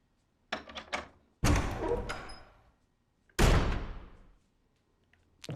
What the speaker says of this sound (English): Go through this door here.